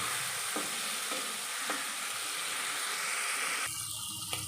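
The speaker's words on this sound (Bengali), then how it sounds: "চিংড়ি মাছটা নাড়াচাড়া দিয়ে ভালো করে ভেজে নেব।" Shrimp frying in oil while being stirred, a continuous crackling sizzle with soft scraping strokes every second or so, the frying dropping back suddenly near the end.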